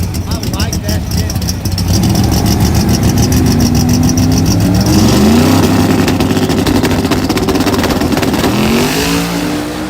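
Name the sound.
race car engine accelerating during drag race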